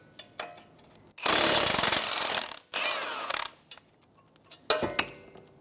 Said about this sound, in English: Using a 19mm socket and wrench, I'm going to remove the two bolts that are holding the strut to the knuckle.